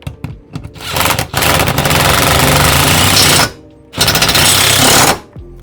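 A power tool drives a bolt into badly rusted threads on a 1991 Toyota MR2 SW20, giving a loud, harsh rattling hammer in two long bursts separated by a short pause, with quieter clicks at the start.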